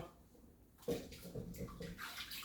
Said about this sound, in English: I put them over here. And I'm going to rinse them off.